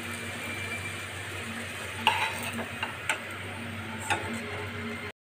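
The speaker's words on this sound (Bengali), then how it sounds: "এরপর আমি ভেজে নেব কাঁচকলা। কাঁচকলাগুলো আমার ভাজা হয়ে এসছে।" Raw plantains fry and get stirred in a pan while Bengali shukto is being cooked, giving a steady low sizzle with a few sharp scrapes and clinks against the pan, all close and moderately quiet with no talking.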